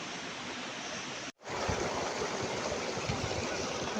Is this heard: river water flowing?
yes